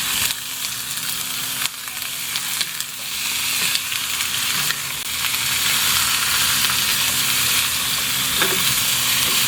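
Garlic and onion sauté in a pan for adobo, sizzling loudly and steadily up close while a utensil scrapes and stirs through them now and then.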